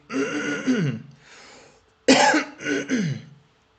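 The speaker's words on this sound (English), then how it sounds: "I have to clear my throat" Two rough bouts of throat clearing by a person with asthma, each a harsh raspy burst followed by a softer trailing rasp, close and loud with no talk.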